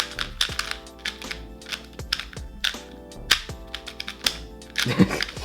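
A GuoGuan XingHen TSM 2x2 puzzle cube being turned, crisp plastic clicks and clacks in quick irregular bursts, close and fairly loud, with a few heavier snaps near the end.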